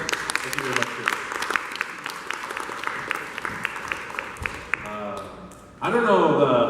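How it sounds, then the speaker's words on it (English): Audience applause at a talk on blockchain in smart cities, a steady patter of clapping from a room of listeners that swells louder near the end. "All right, can I get a round of applause then?"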